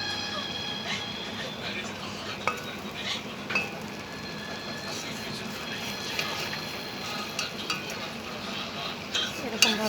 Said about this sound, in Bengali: খুন্তি দিয়ে নাড়াচাড়া করতে হবে।